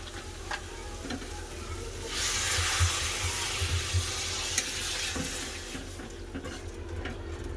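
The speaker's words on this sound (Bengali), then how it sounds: "এবার জল দিয়ে দেবো" Water is poured into a pan of spiced vegetables, stalks, potato and pumpkin, for a curry, a hissing splash swelling over a steady sizzle before settling back to the frying bubble.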